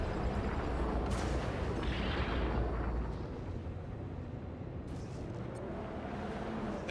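Missile launch and explosion in the space game Star Citizen: a loud sustained roaring blast that rumbles heavily, then eases into a lower continuous hum, with a couple of brief bright crackles near the end.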